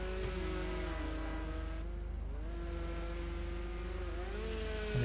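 Weevil cars in a video game race engine drone continuously, with rising and falling engine pitch as the cars sweep past at moderate volume, no talk.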